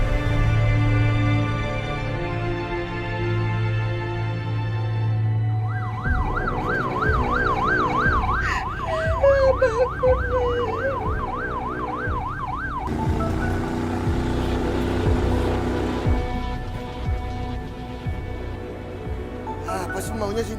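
An ambulance siren wails in a rapid rising and falling pattern, loud and close, joined by other siren tones and traffic-like rumble, with voices at times.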